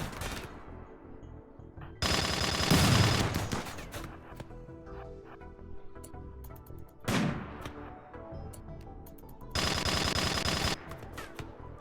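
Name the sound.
gunfire in the video game Rimworld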